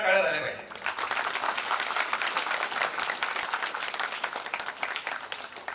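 Audience at a Wonder Kids school event applauding steadily and fairly loudly, many hands clapping in a dense, even patter that rises after a brief louder sound at the start and carries on throughout.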